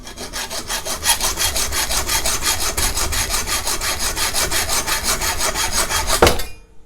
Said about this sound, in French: on va pouvoir venir serrer le rondin dans l'étau et scier le morceau à la scie à métaux